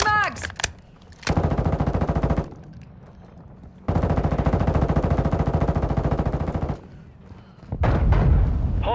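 Sustained automatic machine gun fire in Modern Warfare II, loud long rapid bursts broken by short pauses, with faint voices in between.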